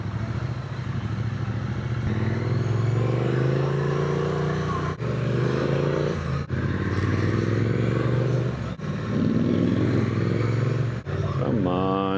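Triumph Speed Twin 900 motorcycle on the road, engine droning steadily throughout with rising and falling pitch as it accelerates and shifts, a few brief gaps between gears, someone talking over the ride.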